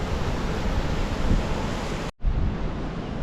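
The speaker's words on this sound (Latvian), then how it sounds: "Tur ir viļņojošs okeāns un te atkal pilnīgais rāmums." Broad, steady roar of open Atlantic ocean surf on the coast of Madeira, loud and windy with a brief sharp dropout near the end, no voices.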